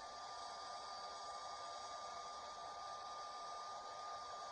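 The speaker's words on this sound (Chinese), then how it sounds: "它也是个吹风机" Hair dryer blowing as a film sound effect, a steady, even whoosh of airflow with a faint whine, continuous and unchanging with no talk over it.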